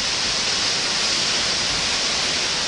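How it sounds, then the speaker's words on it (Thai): Winter waterfall at the first falls of Jiuzhaigou, among partly frozen streams with snow falling, a steady, loud broadband rush of pouring water filling the whole stretch without pause. "น้ำตกนะครับ เป็นน้ำตก ที่หนึ่งของจิ๋วไกโกนะครับ"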